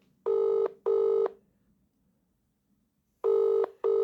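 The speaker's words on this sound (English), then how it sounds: "Oh, it's ringing again." A mobile phone rings in two short double bursts, loud and close, separated by a quiet pause.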